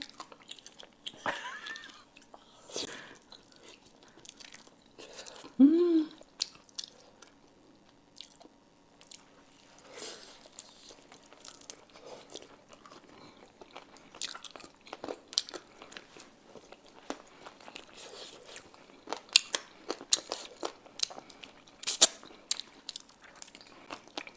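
Close, wet chewing and crunchy biting of spicy chicken feet in broth, grilled-style, goes on in intermittent bursts with smacking sounds and one louder crunch, under a quiet background.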